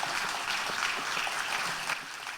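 Steady, dense applause from a jazz concert audience fills the room evenly, continuous and moderately loud with no talk over it.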